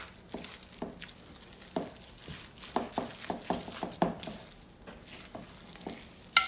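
Flaked cod, parsley and other ingredients are mixed by hand or spoon for cod balls, giving a run of soft, wet squelching pulses in an irregular rhythm, close and fairly quiet.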